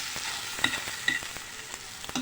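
Spiced potato samosa filling stirred in a pan, a steady soft sizzle with a few scraping clinks of the spoon, moderately quiet and without voices.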